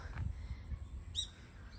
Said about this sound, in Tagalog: Huni ng ibon lang maririnig mo.